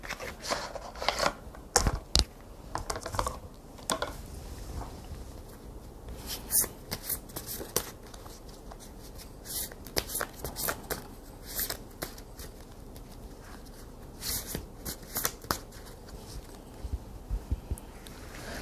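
Tarot cards being shuffled and drawn from the deck by hand: quick papery riffles and soft slaps come in uneven bursts, close up and fairly quiet, with short pauses between handling sounds.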